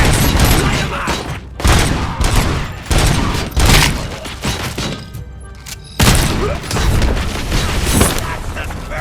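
Gunfire in the video game RoboCop Rogue City: rapid bursts of automatic shots and heavy booms in loud repeated volleys, with brief pauses between them.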